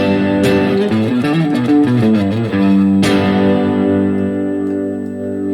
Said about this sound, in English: Usually I like the Vox amp more with a little bit of a distortion